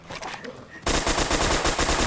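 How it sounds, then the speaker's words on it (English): Sudden sustained rapid-fire gunfire in a Fallout 4 style shooter game erupts loudly after a quieter stretch of mixed game sound, then continues as a dense, rhythmic automatic burst. "Who the fuck is shooting me?"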